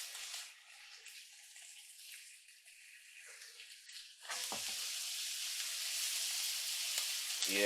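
Onion cooking in a pan for a chicken stir fry sizzles quietly at first, then the frying surges louder and steadier halfway through, with faint stirring clatter near the end.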